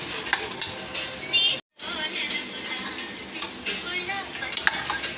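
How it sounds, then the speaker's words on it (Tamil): A vegetable biryani mixture with cumin seeds is stirred in a pan over a low flame, a close, continuous scrape and shuffle of a spoon over a soft sizzle, broken by a brief silent gap. "ஃப்ளேம் கம்மியாக வச்சு நல்லா மிக்ஸ் பண்ணு."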